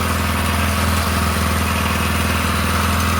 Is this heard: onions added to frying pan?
no